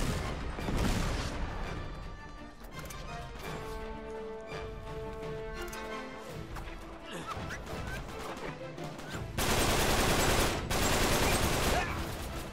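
Dense, continuous gunfire and crashing impacts from an Uncharted 3 multiplayer firefight fill the whole stretch, loud and layered over game music, with a heavier burst of blasts near the end.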